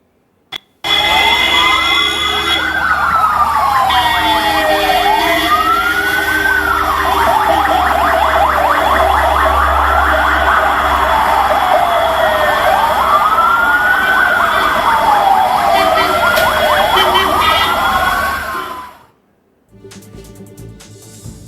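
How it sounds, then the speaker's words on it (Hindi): A long line of ambulances passes with loud wailing sirens rising and falling in overlapping sweeps over a rumbling engine drone. The sound holds steady for many seconds and then cuts off abruptly. "ये एम्बुलेंस कैसे कतार में निकल रही है, देखिए। थोड़ी देर सुनिए इस आवाज को"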